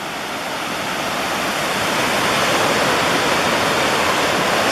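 Bog River Falls, a waterfall in the Adirondacks, roaring as a loud, dense, unbroken rush of falling water heard close up, with no voices.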